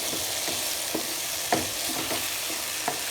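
A shalgam (turnip) dish cooking in a pan gives a steady sizzle and fry, with a spoon scraping and stirring through it in irregular strokes, close up and alone.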